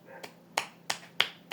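Four slow, deliberate claps ring out one at a time, a single person demonstrating serious, unenthusiastic applause, each sharp crack separated by a deliberate pause in an otherwise quiet room.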